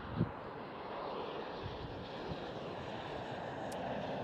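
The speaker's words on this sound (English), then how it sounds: "There is KLM Cityhopper E190." A KLM Cityhopper Embraer E190 jet at Amsterdam Schiphol gives off a steady, broad engine roar that holds at moderate distance, with wind buffeting the microphone and a faint knock near the start.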